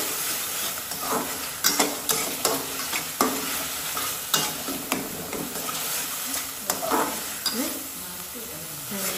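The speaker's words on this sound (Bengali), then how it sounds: "মশলাটা কষানো হয়ে গিয়েছে" Spice masala for a river baim fish bhuna sizzles in a pan while a spatula stirs and scrapes it in steady, repeated strokes, fairly quiet and without talk.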